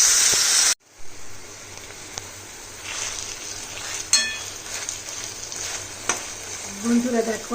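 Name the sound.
kochur loti greens frying in spiced pan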